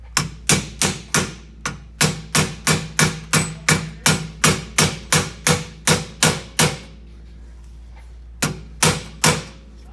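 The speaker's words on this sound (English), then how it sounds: "take your TMW bumper ends, tap those guys in, little rubber hammer" A small rubber hammer taps bumper end caps into place on a Baja Turbo S bumper install: a rapid series of loud, sharp, close knocks in a steady rhythm, a short pause, then three more hits.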